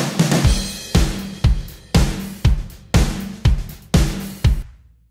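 Programmed pop-country drum groove with layered kick and snare samples: punchy kicks and snares repeat in a steady, even pattern over a bright cymbal wash, ending with a quick cutoff.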